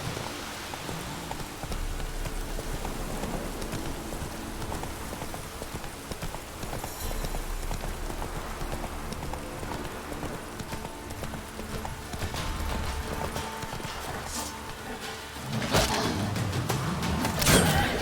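Hooves of a horse galloping along a trail in the Witcher 3 video game, a steady driving clip-clop that runs throughout the clip with rain-like noise, growing louder near the end.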